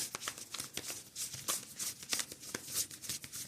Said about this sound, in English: I think I might be down to some of my last shuffles here.